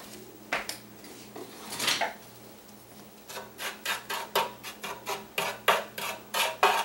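A spoon or utensil scrapes and stirs ingredients seasoned with garlic powder in a bowl or pan, with a few scattered rubs at first and then a steady run of rhythmic scraping strokes, close and alone.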